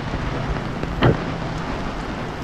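Steady rain hisses heavily and evenly throughout, with one short dull knock partway through.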